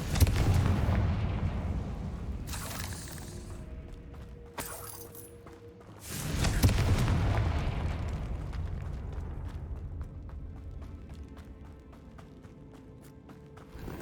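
Confringo fire spell blasts in the game Hogwarts Legacy boom twice with heavy rumbling impacts, each followed by crackling debris and a long fading rumble.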